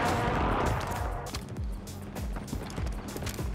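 Gunfire in a battle royale match, a scatter of sharp shots, several in quick succession near the start and then sparser cracks, mid-distance and fairly loud.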